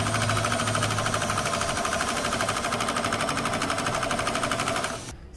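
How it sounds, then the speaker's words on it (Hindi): Sewing machine stitching two fabric pieces together for a small ladies' purse or hand pouch: a fast, steady mechanical whir runs loud and close for about five seconds, then cuts off abruptly. "इसे इसके ऊपर ऐसे रखना है और सिलाई लगा देनी है।"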